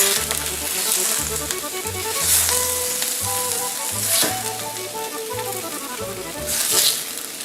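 Browned homemade meatballs sizzle as they are added to marinara sauce, a continuous loud frying hiss and crackle with occasional louder bursts as more go into the pan, heard alone over a faint humming tone.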